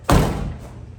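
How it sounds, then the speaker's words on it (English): The door of a 1964 Mercury Comet car is shut once, a single loud, close, solid thud that rings briefly and fades. "Shut this door."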